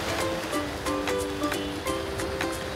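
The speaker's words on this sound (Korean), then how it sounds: "파도 소리 들으며 천천히 걸으니" Sea waves wash steadily at Namdang port in Hongseong on the autumn West Sea coast, a continuous near surf with repeated short tonal calls rising above it.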